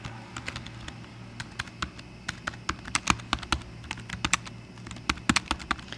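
A computer keyboard clatters with quick, uneven keystrokes as a note is typed, close and fairly clear over a faint steady background hum, with no speech.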